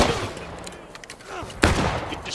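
Civil War musket fire in the multiplayer game War of Rights, several sharp shots cracking at irregular intervals, one loud close report near the end, with scattered distant firing and faint voices between.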